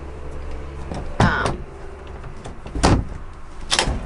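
Drawer pulled open inside a Class A RV motorhome, heard as three close sliding thumps and rattles spaced a second or two apart over low vehicle interior hum.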